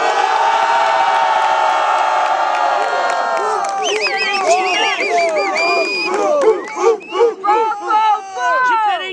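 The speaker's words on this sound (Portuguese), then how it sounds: "Muito barulho pra quem gostou das rimas do Dopré" A crowd at an outdoor rap battle final roars, then breaks into rhythmic cheering, whoops and chanted shouts. The mass of voices is loud and near, swelling in bursts toward the end.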